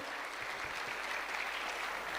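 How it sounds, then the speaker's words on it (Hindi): A crowd at a business gathering breaks into loud, dense clapping that stays steady and close for the full stretch, with no voices standing out. "जोरदार ताली बजाइए।"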